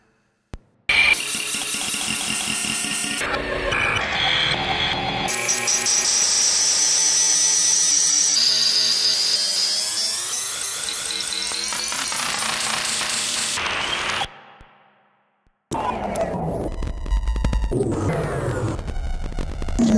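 Modular synth patch routed through a Playertron looper audio manipulator module, loud and dense with buzzing, rattling, glitchy loops and a high whistling tone, cutting out briefly near the end before the churning texture resumes.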